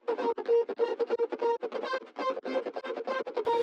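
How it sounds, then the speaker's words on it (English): A pitched-up, distorted vocal sample with auto-tune, made of choppy, buzzy, tonal syllables that repeat in a quick stuttering rhythm, close and alone. "And then I put a distortion on there."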